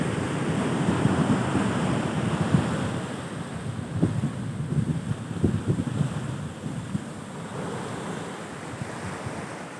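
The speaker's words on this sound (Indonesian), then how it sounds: "Pantai Pasir Putih atau Hancuran Karang Putih." Waves wash steadily onto Pasir Putih, a white coral-rubble beach at Pasi Janeng on Pulo Nasi in Pulo Aceh. The surf rolls in and out constantly, with strong wind buffeting the microphone and no voices.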